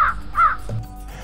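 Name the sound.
bird calling, crow-like caw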